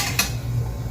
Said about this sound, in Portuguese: é só tampar, né? Deixar um pouco entreaberta aqui a tampa e esperar.